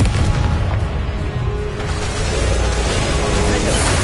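Confringo fire-blast spell exploding in Hogwarts Legacy, a loud dense rumbling boom that fills the whole stretch, continuous and close with crackling bursts and no talking over it.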